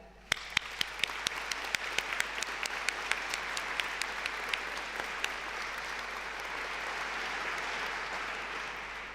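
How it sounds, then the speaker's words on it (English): A university graduation ceremony audience applauds to thank their loved ones, a sharp clap or two opening into a broad, steady round of clapping that swells and sustains evenly throughout, heard at a moderate distance in a large hall. "let's take a moment in a round of applause to thank them"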